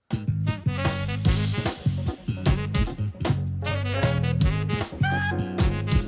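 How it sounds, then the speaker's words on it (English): Jazz fusion with saxophone: a busy band groove with punchy drums, bass and bright horn lines, loud and continuous with sharp rhythmic hits. "To a cutting jazz fusion sound like this."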